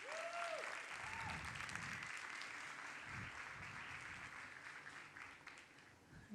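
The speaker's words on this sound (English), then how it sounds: "How about a big round of applause?" Audience applauding at a live-streamed glass-blowing demonstration with a guest artist, steady dense clapping filling the room for several seconds, slightly tapering toward the end.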